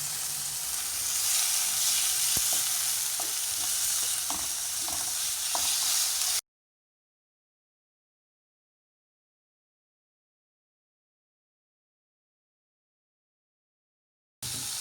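Precooked chicken dropped back into a pot of hot oil, giving a loud, steady hiss and crackle with a few faint pops for several seconds, then a long silence before the sizzle briefly returns.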